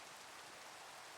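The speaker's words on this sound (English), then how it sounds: "Let's hang out in the rain, guys." Steady rain falls outdoors, a dense, even hiss of drops on surfaces with no breaks, quiet and continuous throughout.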